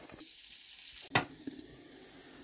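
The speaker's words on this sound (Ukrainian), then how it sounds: "Поки смажиться наш млинець" Pumpkin pancake frying in a covered skillet gives a low, steady sizzle throughout, with one sharp clink partway through and no talking.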